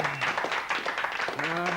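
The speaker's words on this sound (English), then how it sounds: "Give her a big round of applause." Audience applause for a volunteer called up at a live stand-up comedy show, a continuous wash of clapping with voices and cheering mixed in over it.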